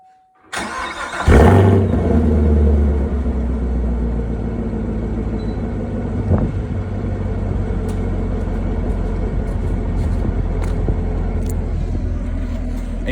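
A 2017 50th Anniversary Chevrolet Camaro's engine cranks and catches with a loud surge, then settles into a steady, rumbling idle that runs on alone and close by for the rest of the clip.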